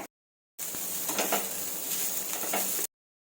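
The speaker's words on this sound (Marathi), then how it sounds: "ब्राउनिश कलर येईपर्यंत कांदा परतून घ्यायचा" Onion sautés in ghee in a pan, a steady moderate sizzle lasting about two seconds with light stirring scrapes, framed by silence.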